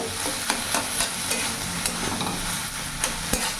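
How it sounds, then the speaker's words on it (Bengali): Ridge gourd and egg stir-fried in a pan give a steady, close sizzle, broken by repeated scraping stirs every half second or so. "এবার ভালো করে ভাজা ভাজা করে নেব।"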